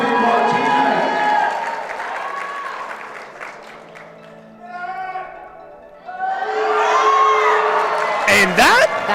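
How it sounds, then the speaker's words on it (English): An audience at a powerlifting national championship claps and cheers loudly, with whoops and shouts, swelling again after a brief lull, while an announcer's voice carries over the crowd. "Somebody clap their hands right now for Gabby Martinez."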